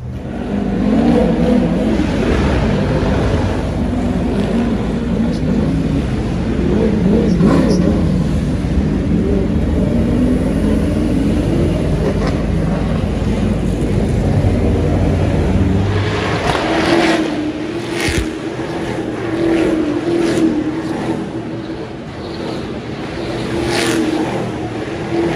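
A ute race car laps the Gold Coast street track in Queensland, its engine a constant loud in-car roar with shifting pitch as it accelerates and brakes, sustained throughout without pause.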